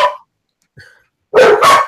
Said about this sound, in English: The dogs are taking over again.